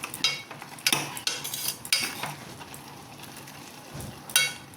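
Greens being stirred into a pot of kuppaimeni sambar, heard as close, irregular scraping and clinking strokes of a spoon against the pot, with a faint sizzle underneath.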